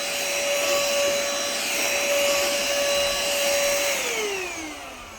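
A VYTRONIX cordless handheld vacuum runs over an old dirty carpet, a steady close whine with a high motor tone that drops in pitch near the end as it winds down.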